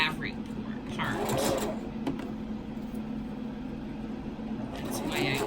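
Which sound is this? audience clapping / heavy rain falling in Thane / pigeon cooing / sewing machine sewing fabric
sewing machine sewing fabric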